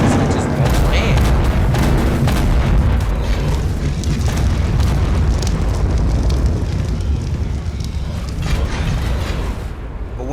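Missile explosions in the video game ARK Descended, a dense, continuous rumbling roar of booms and blasts for about ten seconds, with talking mixed in.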